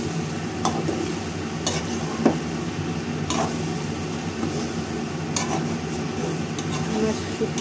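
Loitta dried fish curry with softened tomato and potato being stirred in a pan, a soft continuous sizzle with occasional utensil scrapes and clinks against the pot, close and steady.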